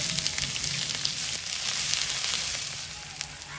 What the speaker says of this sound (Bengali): কড়াইতে তেল দিয়ে দেবো পাঁচফোড়ন আদা রসুন করা